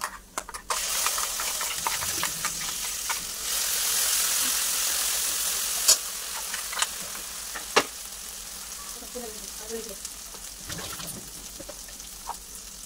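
A loud sizzle as boiled-spice paste hits a hot pan, settling into steady frying with a few stirring clinks and scrapes.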